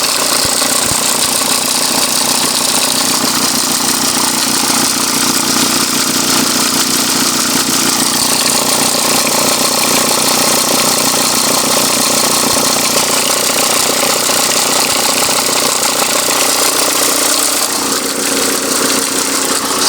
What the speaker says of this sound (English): I just wanted to show you that noise before I change the belt tensioner.